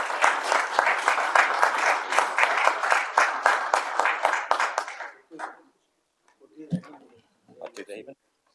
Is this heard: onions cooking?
no